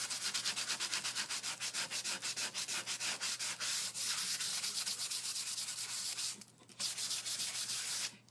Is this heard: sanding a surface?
yes